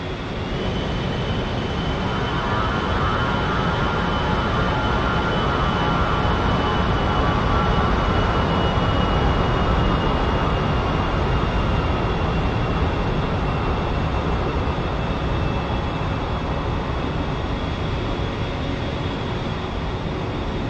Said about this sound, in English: you are cleared for takeoff and ready